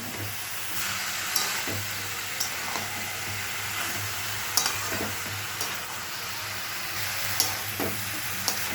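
Cabbage fries in a pan with a constant hissing sizzle, broken by occasional sharp scrapes and taps of a spatula stirring it, close and steady.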